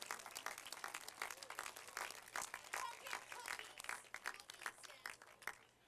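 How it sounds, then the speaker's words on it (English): Crowd applause at a Christmas tree lighting ceremony, a sustained spatter of many hands clapping outdoors, heard from a distance and quite faint, steady for several seconds. "give one more round of applause"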